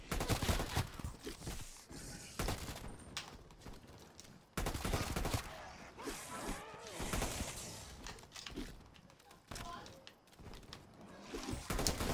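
Gunfire in Call of Duty Cold War zombies mode, bursts of rapid shots and sharp blasts near and loud, broken by brief pauses, with players talking over the game action.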